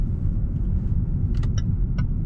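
A 2019 Range Rover Sport P400e HSE plug-in hybrid drives in all-electric mode through a turn, a steady low interior road rumble with a few faint brief ticks above it.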